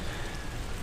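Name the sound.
rain falling during a bike commute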